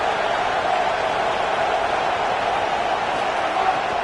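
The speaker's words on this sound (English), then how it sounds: "The roar of the crowd trying to fuel this defense to keep them pinned in their own end." Crowd roar in a college football video game, a South Carolina versus Florida State dynasty matchup, heard as a loud, steady wash of stadium noise that holds even throughout without breaks.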